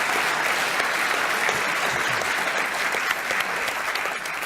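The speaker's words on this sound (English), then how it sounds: "A big round of applause for Scott." Audience applause at a talk on inequality, a dense, steady wash of clapping from a sizeable crowd that holds at full strength throughout and eases slightly at the end.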